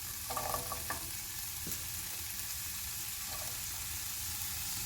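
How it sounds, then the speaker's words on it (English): Bacon bits frying in a pan with pepper, a continuous faint sizzle and a couple of light stirring scrapes near the start, with no talk. "So I'm just going to cook the bacon down a little bit more, just to make sure the fat's cooked"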